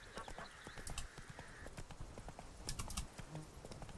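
Horse hooves clip-clop in a rapid rhythmic gallop in The Witcher 3: Blood and Wine, with the horse neighing and a brief whinny near the start, close and clear over game ambience.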